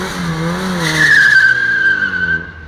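A high-powered 545 hp car doing a burnout, its tires squealing in a loud, sustained shriek that rises and holds steadily over the roaring engine for about two seconds before easing off.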